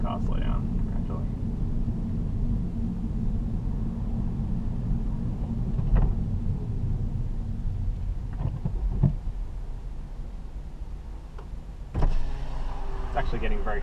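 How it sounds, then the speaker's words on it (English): Electric window motor on a car lowering the glass while driving in town, a steady whir over low engine and road rumble, with a brief mechanical clunk near the end. "I'm going to open a window and hope it doesn't cost us too much in terms of fuel economy"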